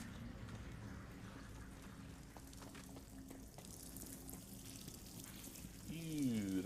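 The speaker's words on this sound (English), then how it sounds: "there's like some dripping sounds" Water drips and trickles echo through a dark video game lab, quiet scattered drops over a low ambient hum, with a faint voice in the background.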